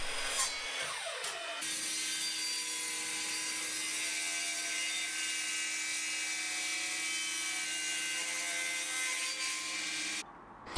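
Wood pieces being cut out from a template in a workshop, a steady, loud, continuous power-tool whine with a sustained tone that runs for about ten seconds, then stops abruptly near the end.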